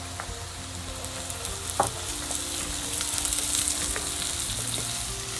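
Garlic and onions sauté in a pan of oil while cooking elephant foot yam curry, giving a steady close sizzle with a few sharp pops and light stirring scrapes, no voices.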